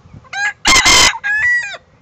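A rooster crows loudly and close by in a single full cock-a-doodle-doo, a short opening note, a harsh central blast and a drawn-out tail, with no talking over it.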